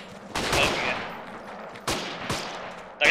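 Loud Mosin rifle gunshots from the video game Forgotten Hope 2: a sharp burst of fire at the start, then two more single cracks spaced apart, and another shot at the very end.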